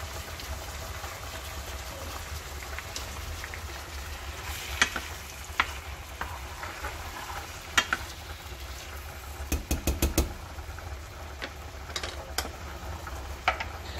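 Tomato and green pepper cooking in a pan for a fish bouillon, a low steady sizzle running throughout with occasional sharp clinks and scrapes of a utensil, no voices.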